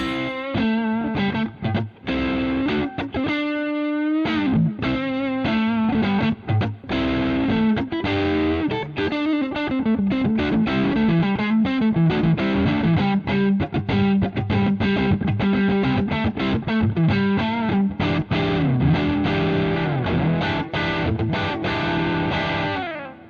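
An electric guitar played through a Boss Katana Artist MkII amp on the neck pickup with a cleaned-up, lightly driven tone: continuous chords and single notes ringing out, with no voices.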